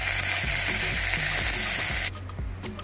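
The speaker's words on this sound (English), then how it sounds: "I'm going to go ahead and add in the rice so that the rice will fry." Rice frying in a pan with cooked onions, a bright steady sizzle overlaid with a rhythmic clicking, ratchet-like mechanical rattle; the frying drops out abruptly near the end, leaving faint clicks and taps.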